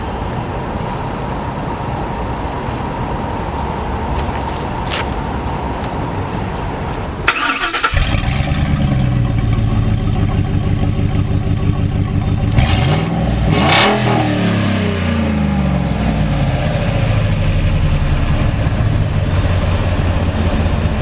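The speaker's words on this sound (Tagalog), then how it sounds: "So driving the Ford Raptor, I'm gonna floor it." A 2012 Ford F-150 SVT Raptor pickup with a V8 engine fires up after a quiet stretch, then revs loudly and close by, the deep engine note rising and falling in sharp bursts.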